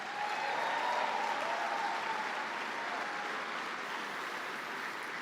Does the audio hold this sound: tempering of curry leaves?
no